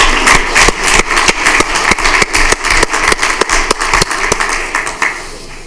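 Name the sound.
applause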